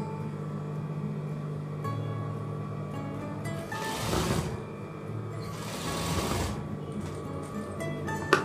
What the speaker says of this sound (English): Then stitch this main material together with the one with the interfacing.